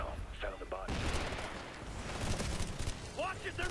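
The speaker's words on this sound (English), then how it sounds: "I just threw a frag." A frag grenade goes off in the shooter video game Ghost Recon: Future Soldier, a sudden loud burst partway through, followed by a dense roar of gunfire and rumble, with voices speaking briefly underneath.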